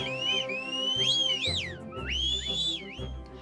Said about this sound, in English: They all start whistling as they climb higher and higher.